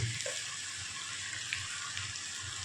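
Onions fry in a pan with turmeric, giving a continuous close sizzle with soft low bumps from stirring, fairly quiet and with no voices.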